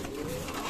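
Mong pigeons at a farm give a brief, low, close coo that fills a short moment without any talk.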